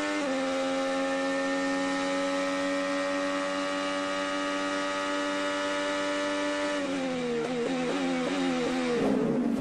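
An IndyCar race car engine at the 2017 Toronto street race: a steady high-pitched engine whine held for several seconds, then rising and falling as the car shifts gears, loud and continuous with no talk.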